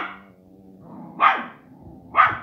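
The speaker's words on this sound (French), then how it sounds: "Voilà, le grogne." A dog gives a low, rumbling growl and then two sharp barks about a second apart, close by and loud, with no talk over it.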